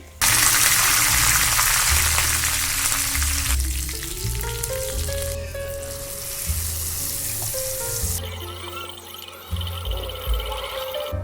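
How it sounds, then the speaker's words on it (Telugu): Spices for a coconut chutney tempering crackle and sizzle loudly in a little hot oil, a dense continuous frying hiss that softens and shifts partway through, with a few clinks and stirring sounds toward the end. "మళ్ళీ కొద్దిగా ఆయిల్ వేసి పోపు అయితే వేసుకున్నాను"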